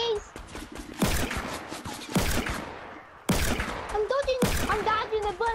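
Video game gunfire in Fortnite, several sharp, loud shot bursts spaced about a second apart, played under a voice singing and talking.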